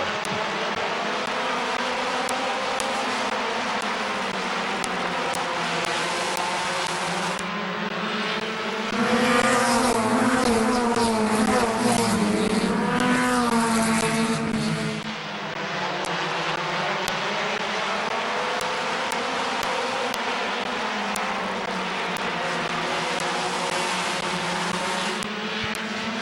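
Race cars battle at Midvale Speedway, their engines roaring loud and continuous as they pass close by, with pitch rising and falling through the laps and a surge in the middle of the run.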